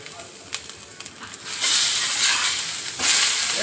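Pomfret fish frying in a pan gives a steady hiss and sizzle that swells louder after a couple of faint clicks, close and with no one talking.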